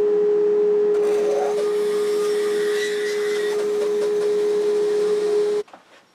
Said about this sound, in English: turn on the dust collection